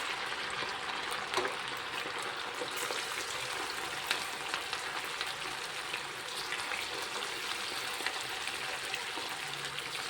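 Chicken kebab pieces fry in a modest amount of oil, giving a soft, even bubbling crackle that stays fairly faint and steady throughout, with occasional light pops.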